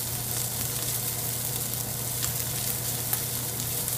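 Green chile roasting in a pan, a steady close sizzle and crackle with a low hum underneath and no talk.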